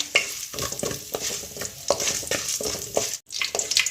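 Urad dal roasting in a pan for masala dosa filling, stirred steadily with a spoon: continuous close sizzle with repeated scraping strokes against the pan and a brief pause near the end.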